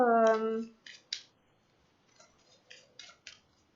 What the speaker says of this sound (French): on fait le petit tirage avec le tarot Oshozen. On prend 3 cartes